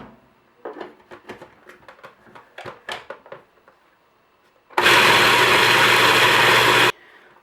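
A food processor grinds shredded coconut in a loud, harsh two-second whir that stops abruptly, following a stretch of quiet tapping and clattering.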